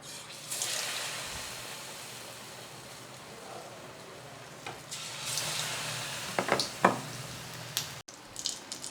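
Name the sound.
potato masala bonda balls frying in hot oil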